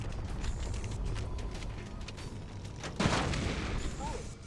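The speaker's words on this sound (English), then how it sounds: "trigger a wildcat explosion of the engines" Fusion reactor engines exploding in Halo: Combat Evolved, heard as a continuous rumbling wash of game noise with a sudden loud blast about two-thirds through that then settles back into dense rumble.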